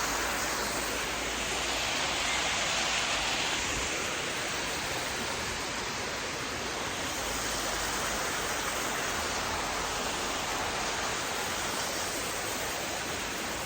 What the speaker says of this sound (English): it's a really cool waterfall here.